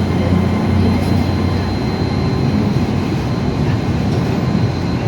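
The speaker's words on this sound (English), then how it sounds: "that's an IET that's just uncoupled and heading over to Newquay" An IET train on the line out of Plymouth toward Newquay rumbles steadily with a low diesel drone and track noise, heard from close by as a continuous wash of sound with no talk.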